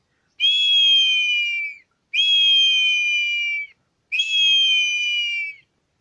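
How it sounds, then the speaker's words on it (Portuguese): A handmade ceramic eagle whistle sounds three long, shrill, slightly descending blasts, each lasting about a second and a half and separated by short pauses, loud and close with nothing else heard. "O apito de águia, feito de cerâmica."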